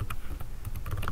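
Close keyboard clatter as a terminal command is typed on a computer keyboard, a short run of uneven clicks and taps in quick bursts, fairly quiet, with no speech.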